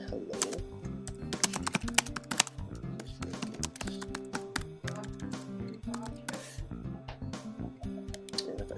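Close keyboard typing on a computer, a quick run of crisp key clicks in short uneven bursts with brief pauses between them, fairly quiet and steady throughout.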